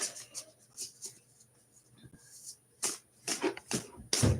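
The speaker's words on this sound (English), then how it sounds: "I'm like not quite shuffling on camera because I'm trying not to knock over the cards" Tarot cards are shuffled and handled on a table during a live reading, with soft scattered riffles and taps, then several louder crisp card slaps near the end; quiet throughout.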